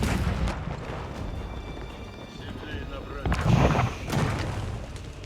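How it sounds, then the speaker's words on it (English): Cannon fire bombarding a stone keep during an Age of Empires 4 battle: a dense rumble of artillery booms and impacts, with a louder cluster of blasts midway, under commentary speech. "Cannons bombarding the keep."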